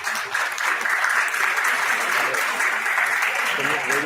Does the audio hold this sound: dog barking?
no